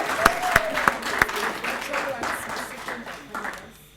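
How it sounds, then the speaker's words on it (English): An audience at a certificate handover ceremony for learners gives a round of applause, a few sharp loud claps up front blending into dense clapping that fades out, with a voice speaking over it. "A round of applause to everyone."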